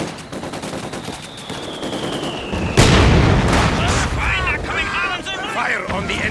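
Gunfire on enemy infantry in the video game Company of Heroes 2: a loud burst of machine-gun and rifle fire breaks in partway through, with rapid shots and booms under shouted voices and battle noise.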